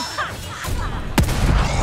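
A gunshot fired in the horror game The Evil Within 2, a single sharp blast with a booming tail, set among other game noise.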